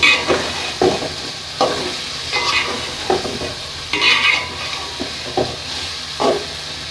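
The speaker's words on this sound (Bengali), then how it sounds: "এখন আমি ভালো করে মশলাগুলি মিক্স করে ঢাকনা দিয়ে রেখে দেবো কষানোর জন্য 5 মিনিট" Chicken pieces stirred with spices in a hot pan, a steady sizzle broken by repeated scraping strokes of a spoon at a loose, uneven rhythm, close and fairly loud, with no voices.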